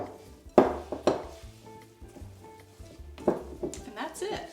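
Salt being mixed into edible cookie dough in a bowl, with a few sharp spoon-against-bowl clinks and soft scraping strokes spread across the moment, a voice talking at times.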